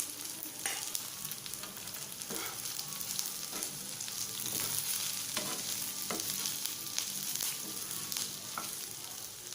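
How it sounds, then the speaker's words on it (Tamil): Coriander, cumin, fennel and fenugreek dry-roasting in a pan for village fish kuzhambu, a soft, continuous crackle broken by periodic scraping stirs, faint and close with no voices. "இது நல்லா வறுபடணும் இந்த மசாலா வறுபடுறப்ப நல்லா செவக்கிற செவக்கிறதுக்கு விடக்கூடாது"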